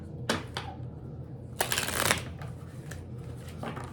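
Tarot cards shuffled by hand close up, with a few short riffling bursts and one longer flurry of cards slapping and fluttering together against a quiet room.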